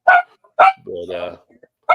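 A dog barks loudly nearby: three sharp barks with a drawn-out whining yelp between them, heard over an online group chat with no voices during the barking.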